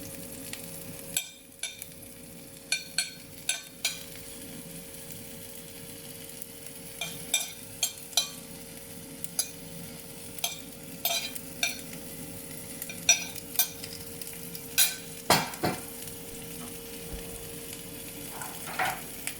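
Capsicum, onion and ginger fry in a pan with a steady low sizzle, broken by scattered sharp clicks and scrapes of a utensil stirring, close by and without speech.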